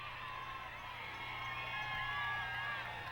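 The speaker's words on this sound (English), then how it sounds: "You can hear the crowd supporting them all the way to the finish." A crowd at a dog agility competition cheers continuously, a steady wash of distant whoops and shouts sustained throughout without breaks.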